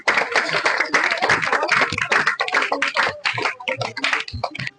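Children in a classroom clapping together during a maths lesson, a dense burst of many hands clapping fast and loud for a few seconds, close and busy.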